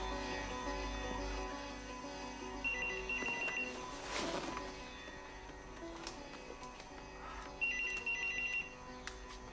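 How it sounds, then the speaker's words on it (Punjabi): A telephone rings twice in short electronic bursts, separated by several seconds, over a low background hum with a few bumps and knocks in between. "ਤੁਹਾਡਾ ਫੋਨ ਹੈ"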